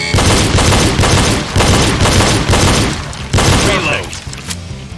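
Pistol shots in a rapid shooting drill, dense overlapping reports filling most of the stretch with brief pauses between bursts, loud and close, with a voice speaking under and between the shots.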